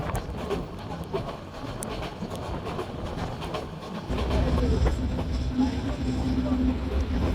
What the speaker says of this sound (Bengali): উঠে পড়লাম ঈদ স্পেশাল নাইন ট্রেনটাতে চট্টগ্রাম থেকে বৃষ্টি মাথায় নিয়ে ছুটে চলল ঈদ স্পেশাল নাইন